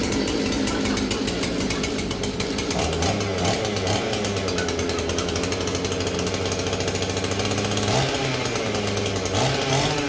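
A Husqvarna 281XP chainsaw, revived after sitting dead, runs loud and continuous with a rough, buzzing idle that rises into brief revs, close to the listener with no talk.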